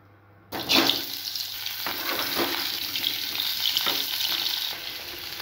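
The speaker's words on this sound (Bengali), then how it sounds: "আর এখন আমি পটলটা ভেজে নেব।" Pointed gourd (potol) slices frying in a home kitchen pan, a loud steady sizzle breaking in suddenly after a brief quiet start and crackling continuously with small spatters and utensil movements throughout.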